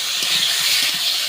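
Green chilli and ginger paste hits a hot pan for a katla fish curry, producing a brief, loud, continuous sizzling hiss with no voices.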